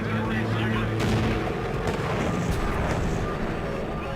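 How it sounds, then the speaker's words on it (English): An aircraft engine explodes in a loud, rumbling blast with crackling bursts and sustained roaring noise, dense and chaotic throughout. "The breakage causes an explosion in the engine"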